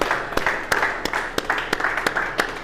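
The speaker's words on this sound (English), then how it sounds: "give Isaac Onoja another round of applause" Audience applause for speaker Isaac Onoja at an event, a steady wash of many hands clapping with a few sharper, louder claps standing out at regular intervals, no voices over it.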